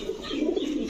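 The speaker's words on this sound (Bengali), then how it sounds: "এখন দেখাবো এক জোড়া আর্মি কবুতর।" A pair of army pigeons coos in a low, soft, continuous murmur, close by and without any talk.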